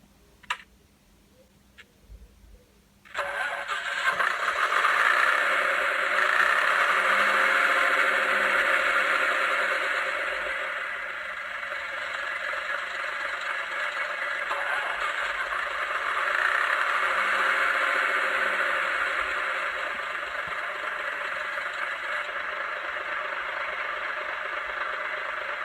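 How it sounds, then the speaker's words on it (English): Engine startup sound from a Graham Farish Class 108 DMU model train with two engine units: a few quiet clicks, then a steady droning rumble that swells and settles and runs on continuously with no talk. "let's start with the main one, and that is engine startup"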